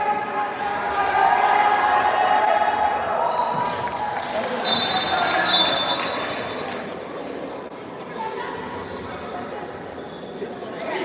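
A crowd at a school basketball game in Sikkim keeps up a steady noisy roar through the whole stretch, swelling and easing slightly, with voices mixed in.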